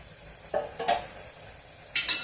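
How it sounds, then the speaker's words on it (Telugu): A spoon stirs chicken curry seasoned with salt and turmeric in a pot, giving a few brief scraping strokes against the metal over a faint background hiss. "వేసి ఒకసారి బాగా కలుపుదాము"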